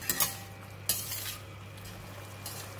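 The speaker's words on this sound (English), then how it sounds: "Give it a stir." A spoon or spatula stirs sweet and sour chicken sauce in a pan, a few scraping clinks against the metal over a soft steady sizzle, close and fairly quiet.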